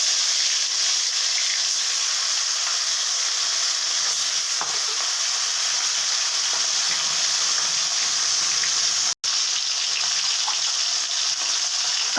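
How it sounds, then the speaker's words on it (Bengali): Marinated katla fish pieces fry in hot oil with a loud, continuous sizzle and crackle, steady throughout with one brief break, and no voices. "এবার মাছগুলোকে ভেজে তুলে নিচ্ছি।"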